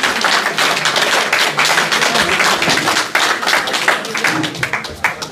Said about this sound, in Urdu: بھرپور تالیوں میں جناب سلیم شیرازی صاحب کا استقبال کیجیے